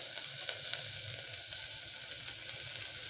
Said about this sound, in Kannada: ಸ್ವಲ್ಪ ಬಾಡಿಸ್ಕೊಳ್ಳೋಣ ಆಯಿತಾ.